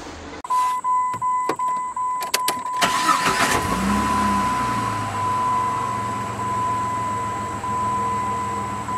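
A car engine cranks and catches right after a battery replacement, starting quickly and settling into a steady idle, preceded by several sharp clicks and a constant electronic chime tone.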